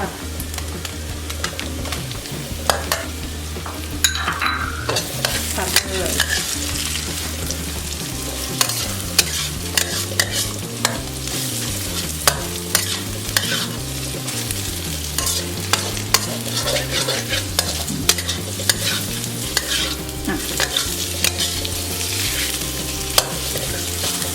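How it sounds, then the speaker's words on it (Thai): Shiitake mushrooms are stir-fried with garlic in a pan for a pork-bone mixed-vegetable soup: a continuous loud sizzle with frequent spatula scrapes and clinks against the pan for over twenty seconds, with no voices. "เราก็จะใส่เห็ดหอมลงไปผัดค่ะ"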